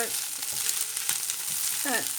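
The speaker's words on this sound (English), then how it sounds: "just stir frying your chicken pieces like so" Steady sizzling of chicken pieces stir-frying in a pan, with scraping and stirring noises throughout and a brief higher-pitched sliding squeak near the end.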